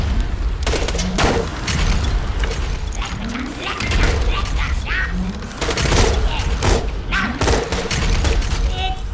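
Slag sniper rifle shots in Borderlands 2 crack out repeatedly at irregular intervals, loud and sharp, over a dense layer of game combat noise and effects.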